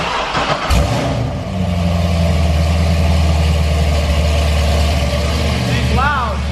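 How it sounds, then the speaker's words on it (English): A car engine cranks and fires on a cold start, then settles into a loud, steady, deep idle that rumbles without change to the end. "That cold start is so dope."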